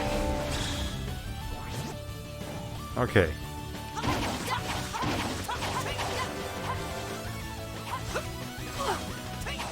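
Repeated melee smashing hits on an enemy during combat in Tales of the Abyss, sharp whacks and crashes scattered among game music and effects, with a voice talking briefly.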